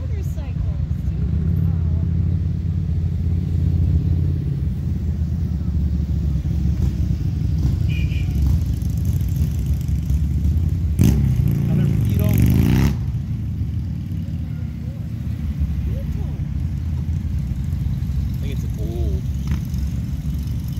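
Motorcycles and cars at a classic car show and cruise, engines idling and rumbling nearby with a brief rev and clatter midway, while people talk close by.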